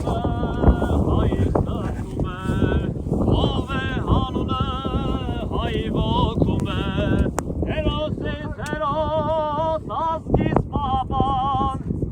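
Strong, gusting wind roars continuously across the microphone on a mountain ascent at about 2,700 metres, loud and buffeting throughout, with no clear talk over it.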